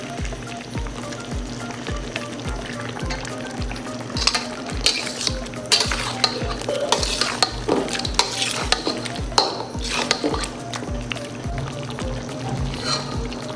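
Chicken pieces stirred into softened onions in a karahi for a dhaba-style chicken onion karahi, with rhythmic scraping strokes of the spoon over a continuous loud sizzle of frying.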